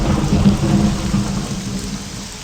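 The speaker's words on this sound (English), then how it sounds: "Still a thunderstorm out here." Heavy rain pours steadily in a thunderstorm in the video game Morrowind, with deep rumbling thunder rolling underneath, loud and close throughout with no voices.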